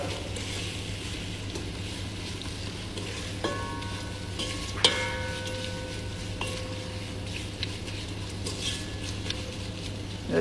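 Pitted dates are stirred in a pan with lime for a date pickle, a quiet steady sizzle with soft scraping and a few sharper utensil knocks against the pan, close and without talk.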